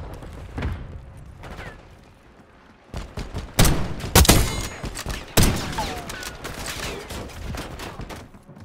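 Gunfire in the shooter Call of Duty: Black Ops 6, sniper-focused play: a few scattered shots early, then a loud cluster of sharp gunshots and blasts in the middle with rattling bursts and clangs, trailing into lower combat noise.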